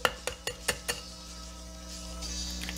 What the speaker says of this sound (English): So crack that egg on your mixing tin.